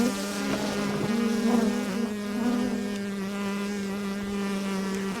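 Package bees flying around a hive box, a close, continuous droning buzz with several overlapping wingbeat tones that rise and fall slightly.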